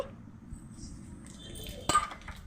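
A single sharp metallic clink, like a utensil striking an oiled frying pan while tempering spices, rings out over a low, steady background rumble.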